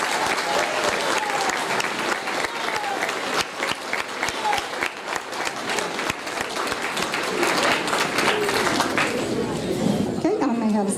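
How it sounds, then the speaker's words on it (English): Audience applause for award-winning eighth-grade students at a middle school recognition ceremony, sustained dense clapping across the whole stretch with some crowd chatter mixed in, easing near the end. "So can you give them a round of applause,"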